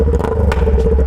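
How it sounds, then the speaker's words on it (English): A loud, rough Kawasaki Ninja 400 sport motorcycle engine with no exhaust rumbles close by, raw and buzzy with a steady low drone. "This is the loudest Ninja 400 I fucking heard in my life."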